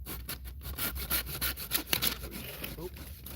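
A handsaw rasps through wood outdoors in quick back-and-forth strokes, close and steady, with a faint scraping rhythm and no talking.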